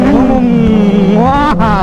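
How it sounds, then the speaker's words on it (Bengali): A Kawasaki Z900 motorcycle engine runs loud and close, its tone rising as it revs briefly, with a voice talking over it. "চলো Z900 আওয়াজ শুনো"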